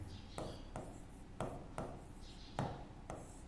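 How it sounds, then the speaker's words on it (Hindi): Chalk or marker strokes on a classroom board, a series of scratchy taps and short scrapes at an irregular pace, close and quiet, with no voice. "शॉर्ट में लिख देता हूं"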